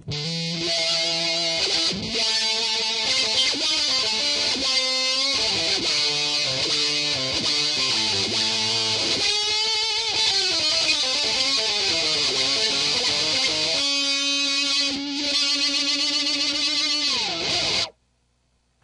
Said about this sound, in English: it's a really crazy wah that you can do a lot with